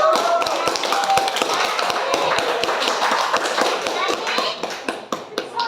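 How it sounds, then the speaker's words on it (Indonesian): A classroom applauds a student group, a loud burst of many hands clapping close by in a fast, uneven rhythm that continues throughout and fades slightly near the end. "Berikan tepuk tangan semuanya pada kelompok."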